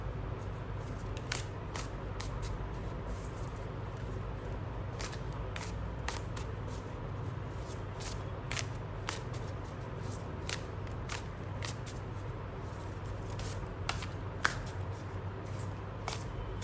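Tarot cards shuffled and handled at close range: a steady run of soft, crisp flicks and snaps over a low constant room hum, with no voices.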